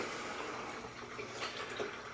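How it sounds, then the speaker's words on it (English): Water draining from an A.O. Smith 40-gallon hot water tank during replacement in an apartment, a steady close rushing flow with no talk. "So right now we're just draining it out."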